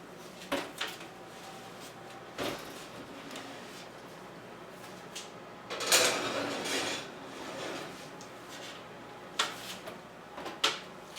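Pan of Dutch pancake batter going back into a kitchen oven, heard as scattered clanks, metal knocks and an oven door opening and closing, with one louder rattling clatter midway amid quiet room tone.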